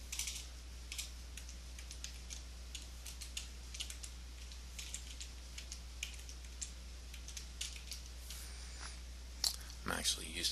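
Computer keyboard keys click in quick irregular bursts, close and fairly quiet, over a low steady hum, with a louder clatter of handling noise at the end.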